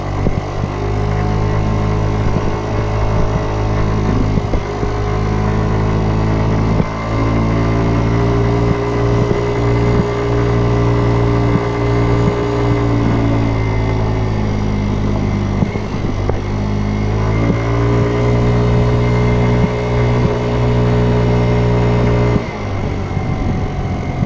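Kymco Agility 50 scooter on street tires, ridden along a washed-out gravel road: a close, steady small-engine drone whose pitch rises and falls gently with speed, with a few brief dips, and no talk.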